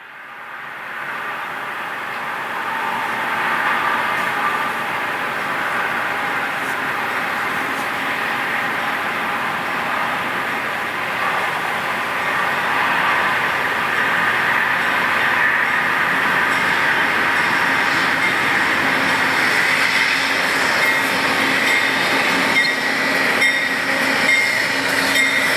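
Amtrak train locomotives roll past in a loud, sustained rumble with rattling wheels and a rising metallic squeal, the roar holding steady for the whole stretch with no talking.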